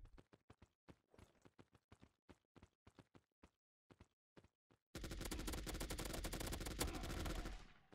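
Rapid bursts of gunfire from a mobile first-person shooter, Fire Strike, emptying a full magazine: a quick string of separate sharp shots, then a dense, loud sustained volley that runs on for several seconds with no talk.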